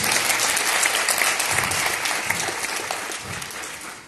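A large crowd of parents claps loudly at a school event in a New Delhi hall, a thick, continuous roar of applause that holds steady and fades slightly at the end.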